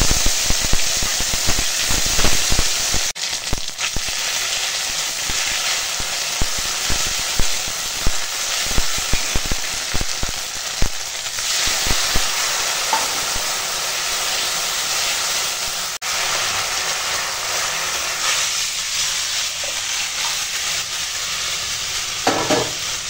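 Bay leaf, dried red chilli and whole fennel seeds temper in hot oil. A dense, loud sizzle crackles up close without a break, with scattered spatters and stirring and no talking.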